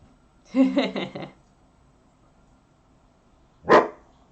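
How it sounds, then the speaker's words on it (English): A pet dog barks at people outside, giving a quick burst of several close, loud barks, then silence, then one more sharp bark about three seconds later. "Just because there are people out there doing stuff doesn't mean you get to bark at them."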